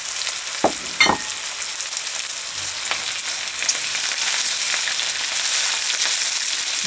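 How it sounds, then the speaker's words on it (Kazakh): Onions and carrots fry in a kazan with a steady, bright sizzle throughout, broken by a few sharp stirring scrapes near the start and occasional clinks. "Пиязын қуырып жатырмыз"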